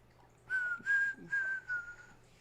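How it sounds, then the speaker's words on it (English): A person whistles a short four-note tune, each note held briefly with small gaps, fairly quiet against a faint hum. "Sorry about the whistling, guys. Sometimes instead of singing, I'll just whistle."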